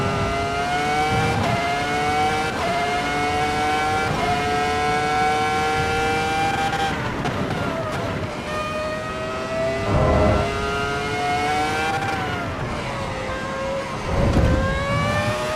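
A V10 race car screams through a lap in Assetto Corsa Evo, the engine revving high with rising pitch sweeps, quick drops on braking and downshifts, and climbing again out of corners.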